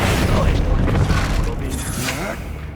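Expelliarmus disarming spell cast in the Hogwarts Legacy video game, a loud booming magical blast with shattering crackle that rings out over a busy battle mix and fades.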